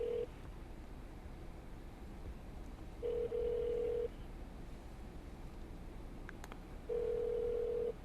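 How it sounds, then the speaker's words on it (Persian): Telephone ringing in steady bursts, three long tones with pauses between them, loud and clear over a constant low background hum, with no talk. "همین داره زنگ میزنه تلفن"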